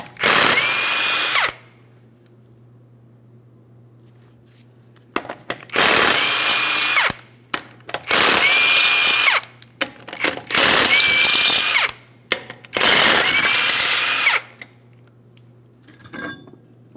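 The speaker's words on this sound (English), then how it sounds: "we're going to be using a 21mm to remove all 5 of our lug nuts" A power tool with a 21mm socket removes the lug nuts from a Ford Transit wheel in five loud, whirring bursts of about two seconds each, separated by quiet gaps with faint clinks.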